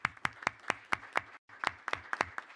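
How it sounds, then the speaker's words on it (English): A small audience claps after a presentation on a fully automated infrastructure upgrade and maintenance project, with distinct, closely spaced individual claps, a brief gap midway, then more clapping. "I think we can give you a big round of applause for this great project"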